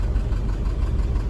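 A loud, rough car engine with a failed cylinder running unevenly, with a constant low rumble and irregular knocking pulses, heard alone without any talking.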